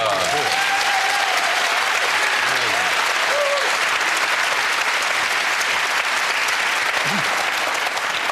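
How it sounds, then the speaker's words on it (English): A television studio audience breaks into steady, loud applause that carries on for several seconds, with a few voices and cheers mixed in at the start. "Good Lord, round of applause."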